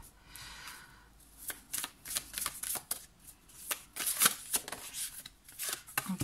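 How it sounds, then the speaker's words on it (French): Tarot cards shuffled by hand, with a soft series of quick papery riffles and slaps up close and at a low level, coming in uneven bursts with brief pauses between them. "pendant que je brasse les cartes"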